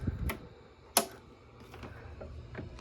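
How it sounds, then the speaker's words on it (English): Relays in a President Lincoln 2 ham radio transceiver click on and off as it switches to sideband, a few sharp, close clicks spaced through a quiet stretch with faint background hiss. "All right, you hear my relays clicking on for sideband"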